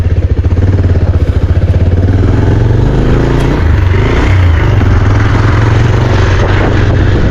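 A Bajaj Pulsar 220F or Hero Splendor motorcycle being ridden, with a loud, close, steady engine drone and chugging exhaust pulses that stay constant throughout.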